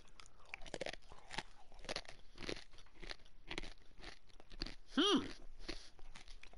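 Repeated crisp crunching and chewing, irregular bites and crackles close up, with one brief squeaky whistle-like sound midway.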